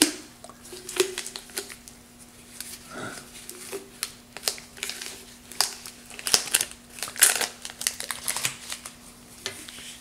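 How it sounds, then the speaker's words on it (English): Adhesive tape peeled in short crackly strips from a wooden hollow form, close and fairly quiet, with irregular crinkling bursts spread across the stretch and a steady low hum underneath. "I think temporarily I'm going to take this tape off."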